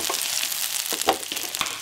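Pressed garlic and partly cooked onions sizzle in a saucepan, a loud steady hiss punctuated by crackling spits and spatters, with no speech.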